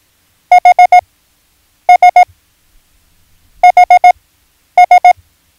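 Bursts of steady electronic Morse code beeps in quick groups of three and four, separated by short silences, clean and loud.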